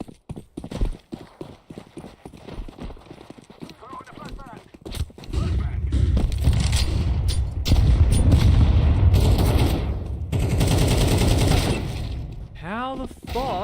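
Bursts of gunfire in Counter-Strike 2 crackle through the middle of a competitive match, loud sustained rattling shots over busy game ambience, with a player talking briefly at the start.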